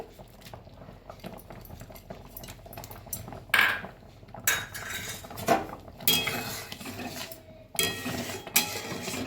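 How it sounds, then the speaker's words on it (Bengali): Dry fruits scattered over a carrot dessert in a pan, with close metallic clinks, spoon scrapes and rubbing against the pan in irregular bursts and no talking. "এবার আমি ড্রাই ফ্রুটটা দিয়ে দিচ্ছি, ওপর থেকে ছড়িয়ে দিচ্ছি।"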